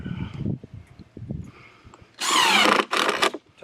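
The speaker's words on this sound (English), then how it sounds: "Tighten that screw down." A power drill drives a screw into a wooden bed frame, with two close, loud whirring bursts near the end after some quieter handling and knocking.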